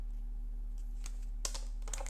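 Tarot cards being shuffled and handled during a private love reading, a few soft papery riffles and clicks at close range over a steady low hum, with no talk.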